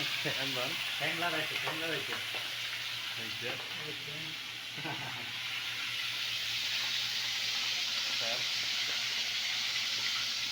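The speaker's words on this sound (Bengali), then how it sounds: "যে তেল গরম হইতেছে, এখন ফ্রাই করা হবে" Crab fries in hot oil with a continuous close sizzle and bubbling hiss, and voices talk over it during the first half before the frying carries on alone.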